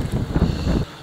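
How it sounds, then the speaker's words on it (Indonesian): Strong wind gusts on the summit trail of Mount Telomoyo, buffeting the microphone with a loud, rough, rumbling roar that drops away abruptly at the end. "Kencang sekali, benar-benar kencang sekali anginnya ini."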